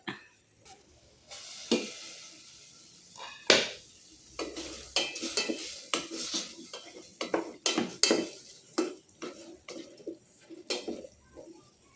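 Pork frying in a pan gives a soft sizzle under repeated sharp clanks and scrapes of a utensil stirring against the pan, irregular and close, without speech.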